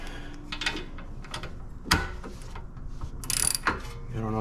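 Ratcheting wrench tightening a bolt near a ball joint under a 2008 Pontiac G8, producing quiet irregular clicks and metallic knocks with a few sharper clanks.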